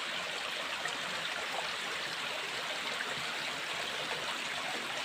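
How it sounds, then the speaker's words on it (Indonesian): Clear water of an underground river flows out from rocks in a steady, even rush with a fine splashing texture, with no voices over it. "Airnya itu keluar dari dalam tanah, dari bebatuan, dan posisi ini di dalam tanah."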